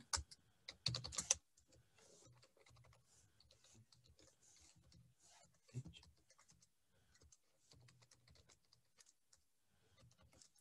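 Computer keyboard typing out a hello world C program in CodeBlocks on Windows 10, a quiet run of soft key clicks with a louder burst near the start, under faint talk.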